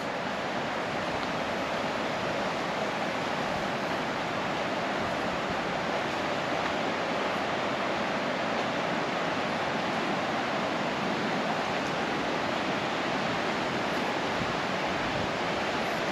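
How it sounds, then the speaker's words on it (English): Water rushes over the Aboadaka waterfalls in Ghana, a continuous even roar heard from nearby, steady and unbroken with no voices over it. "Yeah, the rushing water."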